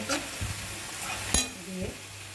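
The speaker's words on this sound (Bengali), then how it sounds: "এখন আমি ডিমের অংশটুকু একটু নেড়ে চেড়ে যাতে দলা পেটে না যায়, এই হিসাবে নাড়তে হবে" Boal fish roe frying with potatoes and spices in a pan, a soft continuous sizzle under a few scraping strokes of the spatula and one sharp metallic clack, close with no voices.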